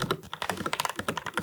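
Rapid typing on a mechanical keyboard with factory-lubricated switches needing 50 grams to press and actuating at 2 mm, a dense close-up run of soft, even keystroke clacks with no talking.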